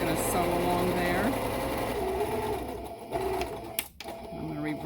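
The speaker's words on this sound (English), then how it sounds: "I'm just going to sew along there." Sewing machine stitching a cloth face mask, a steady close whirring run with needle rhythm that slows and shifts briefly near the end, with a voice talking over it.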